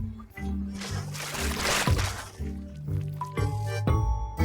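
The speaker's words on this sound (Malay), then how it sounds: "Mungkin saya patut tuang sahaja semua ini ke atas kuali?" Pancake batter poured into a frying pan, a wet liquid splatter and pour lasting a couple of seconds amid kitchen clatter and a few knocks.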